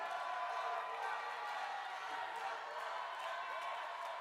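A large audience at the 2011 Miss Universe preliminary competition cheers and whoops continuously in a big hall, a steady, distant wash of crowd noise with scattered clapping.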